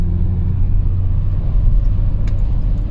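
A BMW 530d E39 Touring diesel estate cruising in fifth gear at about 80 km/h on a wet road: a steady, loud, low engine and road drone with tyre rumble that holds unchanged throughout.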